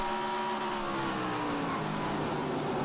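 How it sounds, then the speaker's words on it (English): Modified race car engine in NASCAR Racing 2003 at Thompson Motorsports Park, a steady loud high-pitched drone held at high revs against the limiter without a break. "first time hitting the rev limiter"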